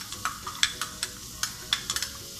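Garlic sizzles softly in a pan while being stirred, with quick spatula scrapes and clicks tapping out an irregular rhythm over a faint frying hiss.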